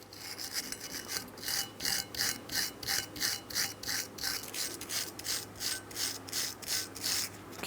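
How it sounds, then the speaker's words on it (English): Rapid back-and-forth wire brush scrubbing cleans the caliper bracket on a 2003-2007 Cadillac CTS rear brake, a fairly faint, rhythmic scratchy rasp repeating steadily at close range. "You can use a wire brush for this if necessary."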